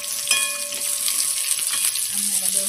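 Finely chopped onion, carrot and capsicum toss and sizzle in a hot pan for a veg Manchurian gravy, a steady bright hiss with faint scraping throughout, close and even.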